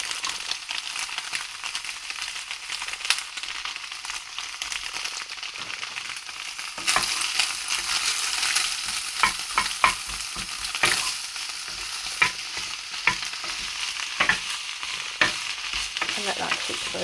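Onions and lentils fry in a pan with a continuous sizzle that grows louder midway, broken by repeated stirring scrapes and clinks from a utensil, close and steady throughout.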